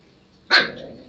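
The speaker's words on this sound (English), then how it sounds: "He's barking at Stewie." A pet dog barks once, sharp and close, at a cat under the table indoors, followed by a brief fading tail.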